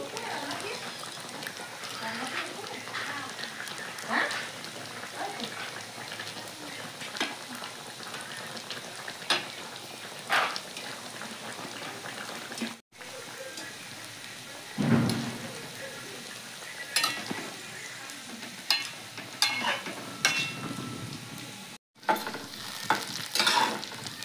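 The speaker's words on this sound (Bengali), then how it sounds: "দেখেন এদিকেও ভাজাটা হচ্ছে আর এদিকে ঝোলটা ফুটে উঠছে।" Fish frying in one pan while a curry bubbles alongside, giving a close crackling sizzle with stirring and scraping clatter throughout, and a voice speaking now and then over it.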